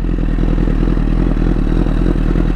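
A 1000RR motorcycle engine runs steadily and loudly in snow, a close, rough, throbbing idle with a continuous low mechanical rumble and no talking.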